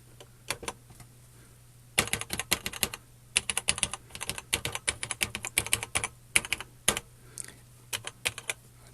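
Typing on a TRS-80/Tandy Model 100 keyboard: a few scattered key clicks, then dense, rapid bursts of crisp keystrokes in irregular runs, close and clear over a faint steady hum, with no talk.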